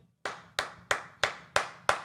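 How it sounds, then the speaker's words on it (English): On a Las Vegas Raiders sports talk show, six sharp, evenly spaced hand claps ring out close by, each crisp and separate with a short decay and quiet in between. "Round of applause right there."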